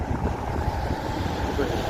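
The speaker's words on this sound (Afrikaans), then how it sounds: "En die rivier is baie sterk." A strong flooded Huisrivier near Calitzdorp roars in a steady, dense rush of water, loud and continuous, with wind buffeting the microphone.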